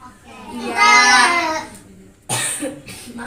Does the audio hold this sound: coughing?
yes